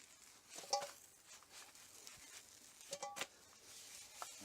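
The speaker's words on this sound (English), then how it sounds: "try to flip my omelet here over the sink" Faint clinks and scrapes of a pan as an omelette is flipped over a sink, a couple of brief metallic knocks with a soft sizzle underneath, quiet and close.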